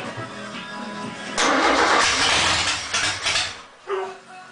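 A Chevrolet Opala engine cranks, catches and starts, then revs up and falls back in a few loud, close surges of rising and falling rumble.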